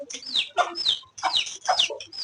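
Backyard hen and rooster clucking in a quick run of close, bright calls, several short bursts with brief gaps between them, no talking over them.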